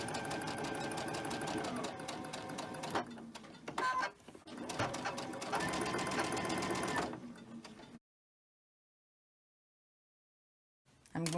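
A sewing machine runs in a steady rapid chatter, pausing briefly mid-run, then stops into silence before a short restart at the end.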